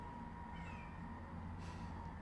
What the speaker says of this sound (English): My cat is meowing at my door.